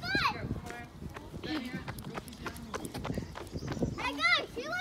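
Donkey hooves clip-clop at a farm in a loose, uneven rhythm close by, mixed with short braying-like calls while people talk over them.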